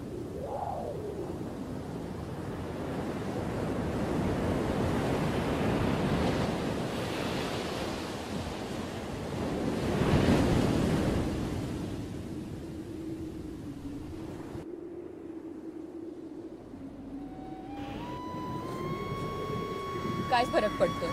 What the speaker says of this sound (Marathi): हा समुद्र उसळतो आहे तो तसाच